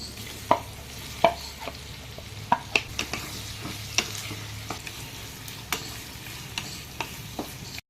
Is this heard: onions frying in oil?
yes